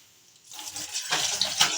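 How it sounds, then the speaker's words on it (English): Tap water gushes under high pressure in a home kitchen where githeri is being cooked, starting abruptly after a brief quiet moment and then running as a loud, steady, hissing splash to the end. "Here water is coming with so much pressure."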